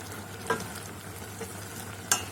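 Prawn thoran, Kerala style, frying in a pan over a raised flame, a steady close sizzle with a few sharp pops and spoon clicks.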